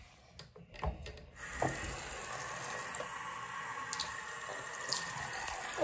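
Tap water runs steadily as a rag is wet under it during carpet cleaning, a close, continuous splash after a few sharp knocks and clatters at the start.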